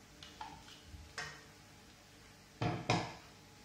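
Cooked rice for coconut rice being mixed in a pot: faint spoon taps and scrapes in short, scattered strokes, ending with two louder knocks against the side of the pot.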